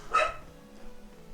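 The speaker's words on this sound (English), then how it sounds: "I can hear her barking in the background." A single sharp dog bark near the start, then quiet room tone with faint background noise.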